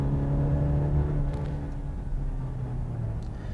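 A 2020 Cadillac CT5 four-cylinder sports sedan drives in town, its steady low engine drone and road rumble heard from inside the cabin, even and continuous with a slight rise in pitch.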